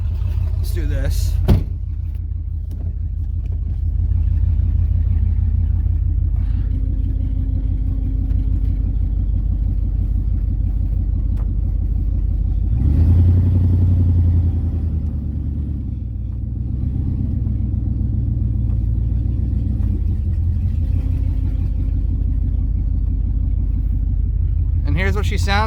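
A Ford car engine idles steadily close by in a low, even rumble, swelling briefly in the middle, with a few clunks at the start and end.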